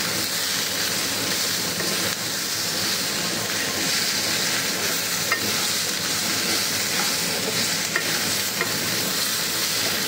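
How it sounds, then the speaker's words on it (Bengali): Raw tomato sizzles in a pan with already fried potato and onion while being stirred, a continuous loud frying crackle with scraping stir sounds, no voices. "দেখো দিয়ে দিলাম এবার কাঁচা টমেটো। আমার আলু আর পেঁয়াজ ভাজা হয়ে গেছে"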